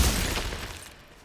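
Glacius ice spell cast in Hogwarts Legacy, a sharp crackling shatter-like burst that quickly fades away within about a second.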